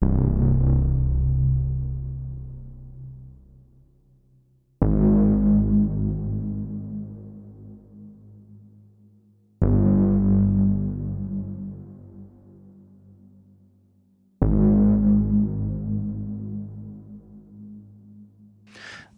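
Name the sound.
synthesizer bass notes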